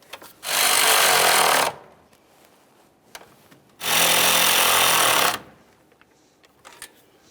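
A power tool tightens the upper radiator mounting bolts on a Ford Ranger in two loud, sustained bursts of about a second and a half each, separated by quiet, with faint clinks of handling between.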